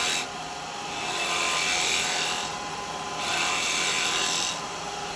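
Woodturning gouge riding the bevel while cutting wet wood on a lathe, shaping a miniature cowboy hat: a continuous hissing shear that swells and eases in slow passes, close and steady, with no talking.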